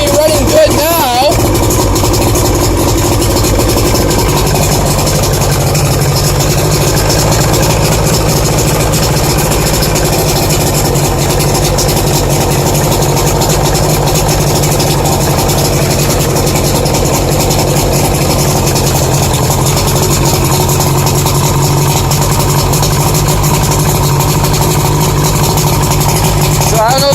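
A small boat's motor, just started, idles steadily with a low continuous rumble and broadband engine noise, loud and close throughout, with no clear speech over it.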